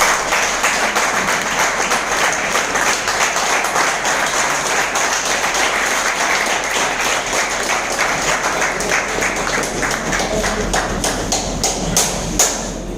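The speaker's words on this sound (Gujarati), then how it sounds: "એમની જોરદાર તાળીઓ સાથે આપણે એમને વધારશું" A hotel meeting-hall audience applauds steadily for a speaker coming to the stage, dense continuous clapping of many hands that swells at the end, loud and close with no talk.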